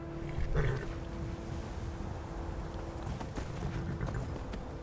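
Horse hooves clip-clopping in Skyrim, a steady muffled trot under a constant low ambient wind drone, fairly faint and distant.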